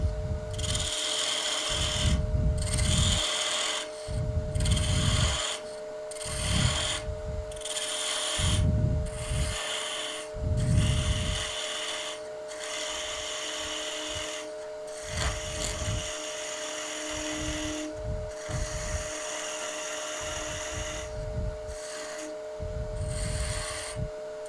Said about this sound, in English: I'm just taking off the material to get a rough shape here